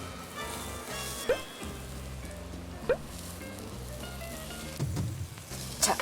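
Beaten egg mixture fries in a pan for a Korean rolled omelette, a soft, steady sizzle with a few sharp crackles, heard beneath background music.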